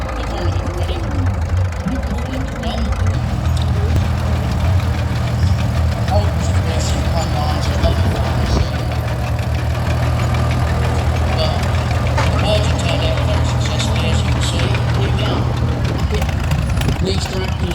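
A Caterpillar tractor engine idles steadily at a steam rally, a loud, close, continuous low rumble with a constant throb running the whole time, with no talk over it.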